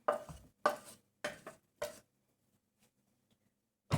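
Four sharp bursts of a knife chopping an onion finely on a board for minced chicken cutlets, close and crisp with short pauses between strokes, then near silence and one last chop.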